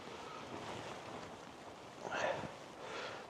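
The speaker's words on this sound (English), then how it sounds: "yeah, it's pretty windy." Faint, steady wind blowing outdoors at a winter camp in snow, a soft rushing hiss with a brief louder gust midway, no clear voices.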